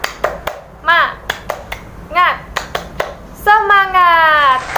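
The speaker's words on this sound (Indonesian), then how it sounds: "Kita tepuk semangat dulu ya." A class claps out a rhythmic 'tepuk semangat' cheer routine in a classroom lesson: groups of crisp claps in patterned bursts, with voices chanting and calling between them and a rising cheer at the end.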